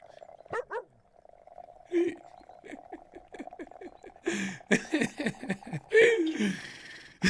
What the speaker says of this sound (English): this dog's so cute